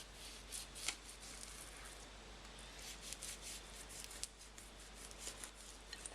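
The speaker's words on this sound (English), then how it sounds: "Just cutting into the thicker parts of the flesh." A knife cuts into the thick flesh of a cured salmon in faint, soft scraping and slicing strokes with light irregular ticks, close but very quiet under a low steady hum.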